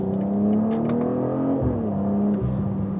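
A 2025 BMW M440i xDrive coupé with a mild hybrid system accelerates through the gears, the engine note rising steadily then dropping at a shift before climbing again, heard from inside, loud and continuous.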